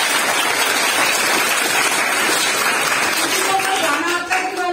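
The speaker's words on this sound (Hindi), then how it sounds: "अब हैप्पी दिवाली के लिए तालियां बजाएं" Schoolchildren clapping together at a school Diwali celebration, a dense, loud patter of many hands filling the room throughout, with a few faint voices mixed in near the end.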